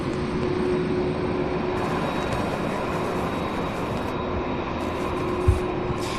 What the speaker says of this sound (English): So we have the 767.